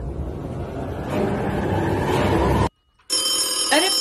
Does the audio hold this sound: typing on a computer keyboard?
no